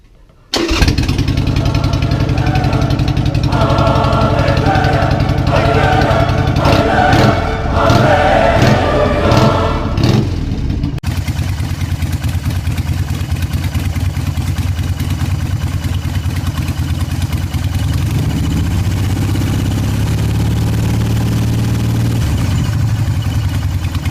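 A 2003 Harley Sportster with a newly fitted ignition module cranks and fires, running loud and rough with revving for about ten seconds, then settling into a steady, close idle.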